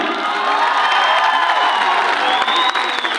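An audience in a conference hall claps and cheers at an anniversary event, dense applause and whoops filling the room at a steady level from start to finish.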